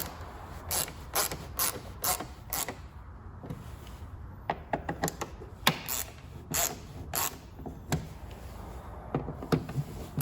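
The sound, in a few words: tightening tail light gasket screws on a MINI Cooper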